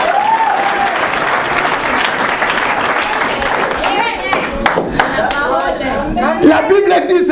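A church congregation at a conference applauds for the Lord with loud, sustained clapping. Voices call out and chatter over the applause the whole way through.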